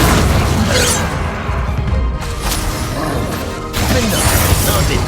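Incendio fire spell cast in combat in Hogwarts Legacy: loud, dense bursts of crackling, booming impact noise that carry through the clip, dipping briefly in the middle before surging again.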